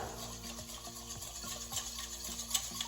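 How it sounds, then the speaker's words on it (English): A fork whisks water and Cretan raki together in a bowl, making soft repeated scraping and swishing strokes in a quiet, close rhythm. "I'm just going to use a fork to mix those together"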